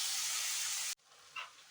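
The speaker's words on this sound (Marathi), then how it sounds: "ही मिक्स मोड जी कुकरला लावलेली आहे ती अशी थोडीशी तेलात परतून घ्यायची आहे" Mixed sprouts sauté in a little oil in a kadhai, giving a loud, close hiss for under a second before it cuts off abruptly, leaving faint quiet sizzling.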